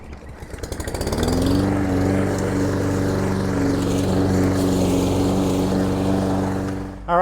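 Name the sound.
Toro Recycler Max 22-inch lawn mower running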